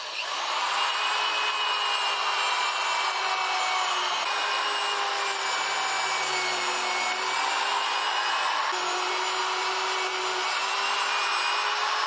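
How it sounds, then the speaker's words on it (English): A power drill runs continuously and loudly up close, its pitch dipping slightly as it bores into wood. "now I'm going to drill the corners"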